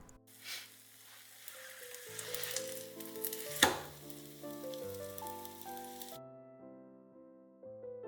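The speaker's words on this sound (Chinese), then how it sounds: "将蒸熟的糯米糕煎至两面金黄。" Steamed glutinous rice cake pan-frying on a preheated, oiled electric griddle, a crisp close sizzle with a sharp crackle midway, fading out after about six seconds and leaving only soft music.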